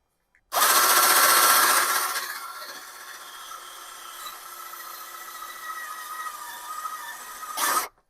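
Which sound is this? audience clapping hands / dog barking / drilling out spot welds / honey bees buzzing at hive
drilling out spot welds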